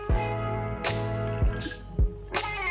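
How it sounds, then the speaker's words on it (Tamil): Water splashes into a pan in a few separate gulps and plops, close by, over a steady tonal hum. "ஸோ தண்ணி விடலாம்."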